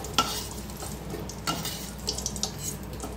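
Fried potatoes lifted out of hot oil in a kadai for a paneer kofta curry, with oil sizzling steadily and a few sharp utensil clinks against the pan; no voices.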